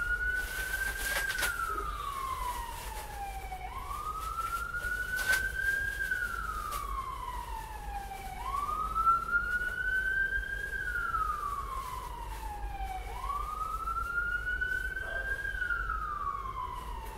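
Police-style emergency sirens wail in slow rising and falling sweeps, repeating about every four seconds, steady and fairly distant, heard from an outdoor allotment garden over a low background hum.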